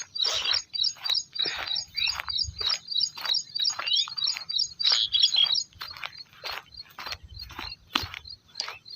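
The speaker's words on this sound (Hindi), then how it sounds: "आँख बंद करके चुपचाप इन चिड़ियों की आवाज़ सुनते रहो" Dense, rapid bird chirping calls repeat steadily outdoors on a morning walk, bright and close, with faint low rumble underneath.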